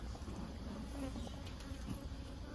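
Honey bees hum continuously around an open beehive as frames are inserted, a dense, steady, close buzzing swarm with no talking.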